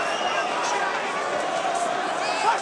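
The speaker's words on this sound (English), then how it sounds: "The crowd trying to carry Anthony Yarde through the crisis." A large boxing arena crowd roars in support of Anthony Yarde, a dense, sustained wall of cheering and shouting that stays loud throughout.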